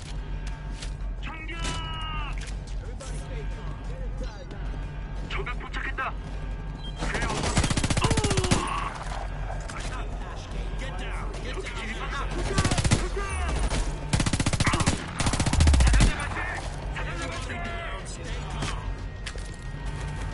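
Bursts of gunfire in the video game Homefront The Revolution, with several loud volleys and mechanical clatter between quieter stretches, and a voice talking at times.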